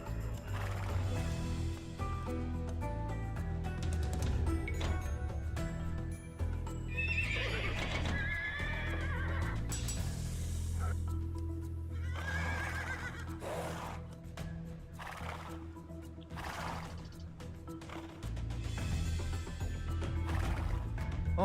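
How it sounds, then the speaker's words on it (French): Horses whinny and neigh repeatedly over a dense rumble of clopping hooves and battle ambience in the Age of Empires II video game, with calls rising at intervals over continuous low background sound. "Entendez-vous le rythme des bottes et le vacarme des sabots qui résonnent?"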